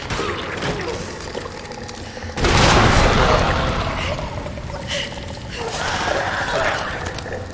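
A grenade blast in the Resident Evil 2 zombie game: a sudden loud, broad boom midway that rumbles and decays into a lingering roar, over game ambience with a brief voice.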